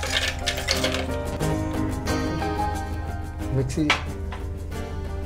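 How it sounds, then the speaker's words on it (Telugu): Ice cubes drop into strawberry lassi with a series of sharp clinks and knocks, moderately close, over a soft tonal background. "బాగా చల్లగా ఉండాలనుకున్నప్పుడు ఐస్ క్యూబ్స్ వేసుకొని"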